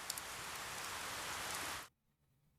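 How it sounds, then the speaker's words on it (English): Rain sound effect from the video game 428: Shibuya Scramble hisses as a steady, dense downpour, then cuts off abruptly to near silence. "nothing will make the sound of the rain stop."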